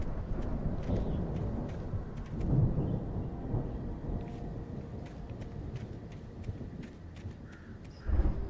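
Thunder rumbles through a game storm, a continuous low roll with a louder swell near the start and a sharper crack at the very end, steady and fairly distant with no talking.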